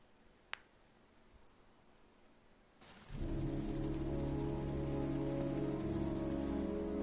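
Rain in the video game Heavy Rain: a faint hiss with a sharp click early on, then after about three seconds a much louder, dense downpour swells in and holds steady, with a low droning tone under it.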